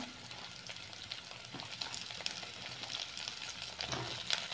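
Cauliflower frying in a pan, a faint, continuous crackling sizzle with soft stirring scrapes now and then, heard from close by with no voices.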